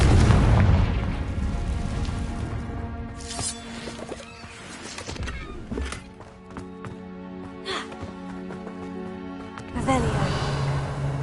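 Confringo blasting spell going off in the game Hogwarts Legacy: a heavy booming burst at the start, then scattered rumbling impacts and crackles layered over game music, with another swell near the end.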